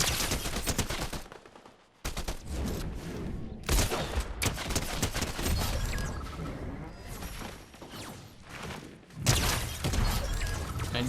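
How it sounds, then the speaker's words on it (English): Sustained gunfire from a distant Fortnite Zero Build fight, with dense overlapping bursts and rapid automatic volleys. The shooting runs almost continuously, stopping only in brief pauses, and sounds moderately far off with no voices over it. "This fight up ahead also sounds like an AI fight. Like, it's just been people shooting for way too long."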